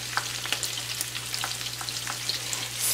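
Bread fries in a pan until golden, giving off a steady, bright crackling sizzle with small pops throughout, close and without speech.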